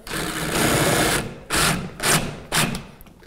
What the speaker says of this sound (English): I'm just using a number 6 drywall screw